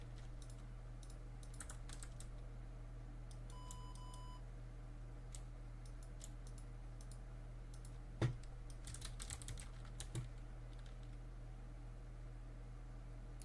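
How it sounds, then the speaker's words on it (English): Computer keyboard keys are typed in scattered bursts of quiet clicks, with one sharper louder tap, over a constant low electrical hum and hiss during a livestream. A brief electronic beep tone also sounds, and no one speaks. "Keyboard."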